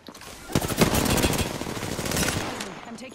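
A Hemlock rifle fires in Apex Legends, a loud rapid series of close shots rattling steadily for about two seconds before cutting off.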